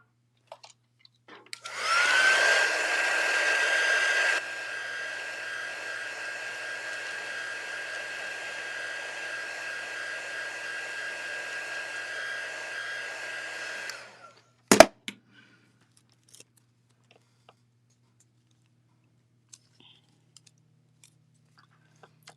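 A hair dryer blows loudly in a burst on high, then drops to a steadier, lower setting for about ten seconds before switching off with a click, followed by faint scattered handling noises.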